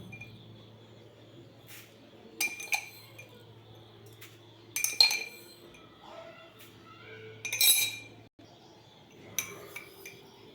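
A spoon clinks against a container while fennel seeds are added to chopped betel leaves for sweet paan mukhwas: four light, separate clinks spread over about ten seconds against a quiet background hum.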